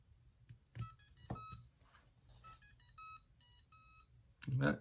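A Mobula 7HD micro drone plays its startup tones after its battery is plugged in: a run of short, clear electronic beeps and chirps at close range, with a louder buzzing burst at the end.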